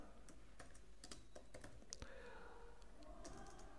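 Quick, light clicks of someone typing on a computer keyboard, irregular taps close by in a quiet room.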